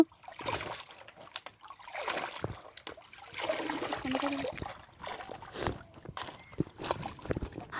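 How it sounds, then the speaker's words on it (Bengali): Raw chicken pieces are rinsed in water by hand, giving uneven splashing and trickling in bursts, with sloshing pauses between handfuls, close by. "এখন সুন্দর করে মুরগিটা ধুয়ে নিচ্ছি"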